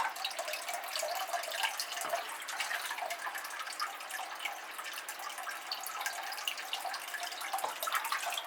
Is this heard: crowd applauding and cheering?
no